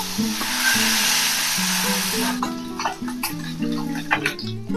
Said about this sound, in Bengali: কড়াইতে তেল দিচ্ছি, মাছটা ভাজবো।